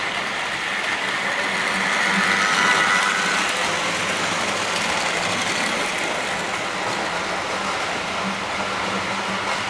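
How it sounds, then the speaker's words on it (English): An OO gauge model railway freight train running on a layout gives a steady, even rumble and rolling rattle for about ten seconds, close and continuous without talk. "while we're just playing with the freight train"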